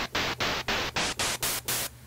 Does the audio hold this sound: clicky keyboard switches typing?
no